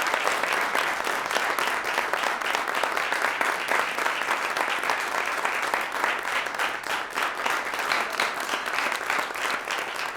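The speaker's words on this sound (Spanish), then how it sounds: "Despidamos con un fuerte aplauso al señor Darío Tepié." Audience applause sends off a guest at the close of a talk event, dense steady clapping that stays loud and even for the whole stretch with no voices over it.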